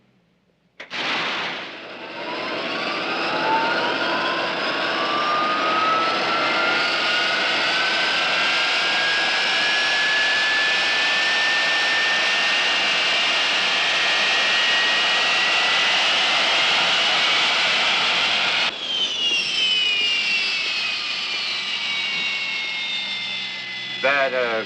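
A jet aircraft engine spools up with a rising whine and settles into a loud, steady roar that runs almost the whole time, then shifts pitch near the end, in a radio drama about an airliner.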